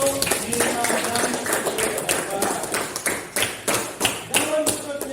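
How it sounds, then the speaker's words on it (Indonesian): A classroom of students claps for classmates, an uneven patter of hands with some taps and thuds and children's voices murmuring underneath. "Tepuk tangan untuk Nina dan"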